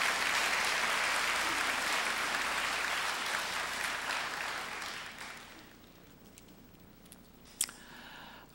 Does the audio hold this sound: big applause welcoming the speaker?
yes